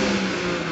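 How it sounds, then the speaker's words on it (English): Brief, steady engine drone from the exhaust of a 2020 BMW X4M six-cylinder, a low, even hum heard on its own without talk. "this car honestly doesn't have a very loud vocal exhaust"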